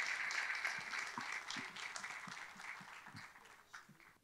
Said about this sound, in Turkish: Hanımlar, beyler, çok büyük alkışlarla Beylikdüzü Belediye Başkanı Sayın Mehmet Murat Çalık.